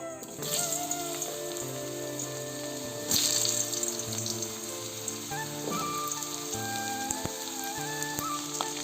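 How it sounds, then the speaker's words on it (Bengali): A steady, crackling sizzle of potatoes frying in hot mustard oil in a karahi continues throughout, with music playing softly underneath. "কড়াইয়ে সর্ষের তেল গরম হয়ে গেছে এবার আমরা ভাজার জন্য আলু দিয়ে দেবো"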